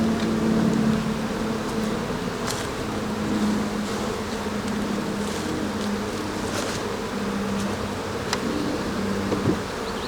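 Honey bees buzzing loudly and continuously up close during a hive split, a dense steady hum with occasional faint knocks and no speech.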